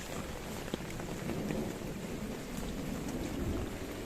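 Steady thunderstorm rain over a vegetable garden with fresh tomato plants, a dense continuous hiss with low rumbling and wind buffeting, no voices.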